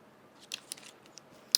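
Metal scissor tips nudging small pearl embellishments into place on a papercraft bow tie: a few faint, sparse clicks and light taps, ending in one sharper click.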